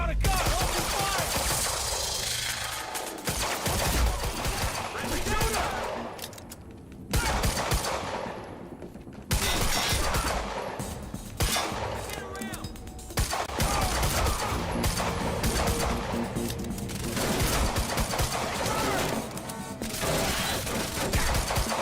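Heavy gunfire in the video game Quantum Break, long stretches of rapid automatic shots and volleys with brief gaps between bursts, loud and dense throughout alongside game effects.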